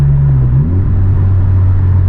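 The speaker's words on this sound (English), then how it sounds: "Downshifts sound incredible now. I mean, downshifts sounded really good just with the catback exhaust, but with the downpipe it's just, it sounds more vicious." Car with aftermarket catback exhaust and downpipe, heard as a loud, steady close-up rumbling drone that swoops in pitch as the engine blips through a downshift, then settles into a deep sustained growl.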